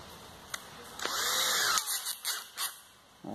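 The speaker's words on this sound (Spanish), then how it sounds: "Vamos a meter el taladrito." A small electric drill used for lapping engine cylinder head valves whirs for under a second, its high motor whine steady, then stops, followed by a few short scraping bursts.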